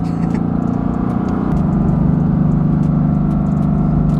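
Mercedes-AMG GT S Edition One engine dropping down into first gear, a steady loud drone with a pitch shift partway through as the downshift takes hold, heard continuously from inside the car.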